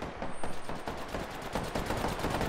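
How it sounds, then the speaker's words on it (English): Rapid automatic gunfire from the video game Apex Legends, a dense run of repeated shots at steady rhythm across the whole moment, loud and close with no talk over it. "I'm about to shoot."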